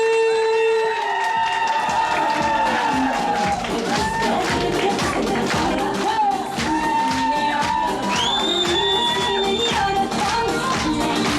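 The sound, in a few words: applause and cheering greeting newlyweds at a wedding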